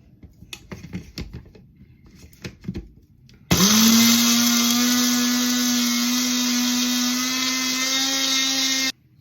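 A mixer grinder whirs loudly as it grinds garlic, starting abruptly after some soft kitchen clatter and running at a steady high-pitched hum for about five seconds before stopping.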